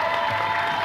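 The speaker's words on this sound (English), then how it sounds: "you can clap if you'd like" A brief burst of audience applause during a live game presentation for Borderlands 3, a dense wash of clapping from a crowd with no voices over it.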